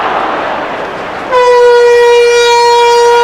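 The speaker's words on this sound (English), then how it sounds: "And there's the hooter, the half-time hooter." A loud half-time hooter at a 1989 rugby league match between Widnes and Canberra sounds as a sustained, harmonically rich blast over the crowd's roar, starting abruptly and holding steady for about two seconds.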